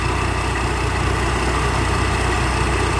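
A combine harvester's Hino J08C turbo diesel engine idles with a loud, steady, low throbbing rumble that runs unbroken and close throughout.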